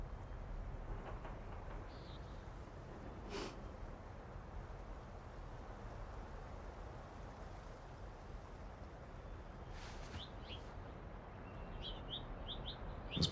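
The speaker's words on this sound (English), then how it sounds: "Those birds are loud." Birds chirp in The Last of Us Part 2, scattered short tweets coming in brief clusters over a quiet, soft ambient background, fairly faint and at a distance.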